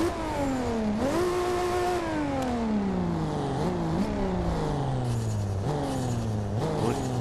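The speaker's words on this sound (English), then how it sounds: "What? Hear that? Turbos go." A turbocharged car in the Forza Horizon 2 racing game accelerates through repeated gear shifts, engine pitch climbing and dropping, with a faint high turbo whistle riding above the steady, close engine roar and no talk.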